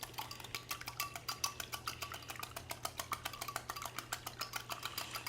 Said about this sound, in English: Just whisk until the yolk is broken.